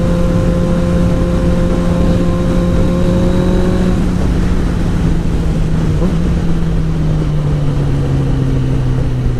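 A car drives along a road with a loud, close engine drone whose pitch holds steady, then drops as the gear or speed changes partway through, with a continuous rolling hum and no speech.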